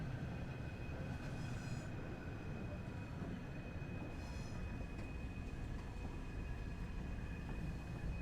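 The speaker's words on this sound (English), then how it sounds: "It's a train." A train in Train Sim World 3 on the Southeastern Highspeed line rumbles steadily throughout, a continuous low rail roar with a faint high whine and brief brighter squeals near the start and middle.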